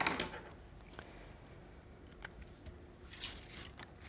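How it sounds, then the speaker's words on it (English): Scissors cutting through paper card around a tree-trunk shape on a handmade Bonfire Night greeting card, with a few short close snips separated by quiet pauses. "We just bring our scissors in, just cut up to the tree trunk."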